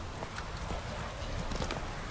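Horse hooves clip-clop in The Witcher 3 video game, a quick, fairly quiet series of steps at a walking pace with no voices.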